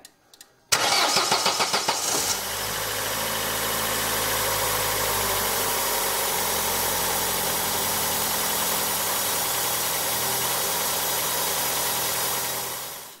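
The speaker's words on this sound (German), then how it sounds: "Jetzt starten wir mal den Motor und schauen mal," An Opel Astra F or G or Corsa B engine starts after a timing belt change: a short burst of starter cranking, then the engine catches and settles into a steady, even idle that holds close and loud until cut off at the end.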